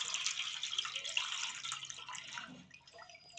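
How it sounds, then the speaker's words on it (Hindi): Water poured from a mug a little at a time gives an uneven, splashing trickle with drips that thins out toward the end, fairly quiet and with no talk over it. "और एक मग्गा ला रही डाल बेटा थोड़ा थोड़ा डालो पूरा मत डाल"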